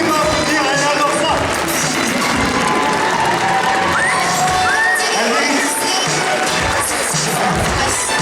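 A large crowd at a cosplay contest awards ceremony cheers and claps in a busy, continuous roar, with shouts rising over steady applause throughout.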